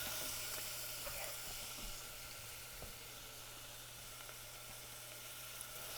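Half a cup of chopped onion sautés in butter in a pan for chicken enchiladas, making a quiet, even sizzle that stays constant and close with a low hum underneath.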